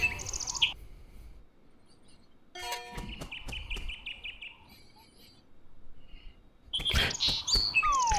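Bird chirps in the Fable Petite Party video game come in bursts of bright, high tweets, with sharp clicks and a ringing chime-like tone between quieter stretches, loud and close.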